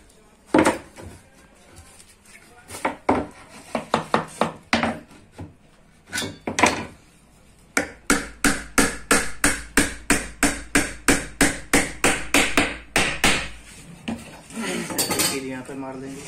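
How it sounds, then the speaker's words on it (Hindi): A carpenter drives nails into a wooden drawer frame with a hammer, producing a long series of sharp, close, evenly spaced blows in rapid bursts, with a brief pause partway through. "चलिए यहाँ से कील मारते हैं।"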